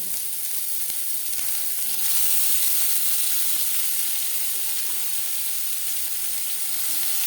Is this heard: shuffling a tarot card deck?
no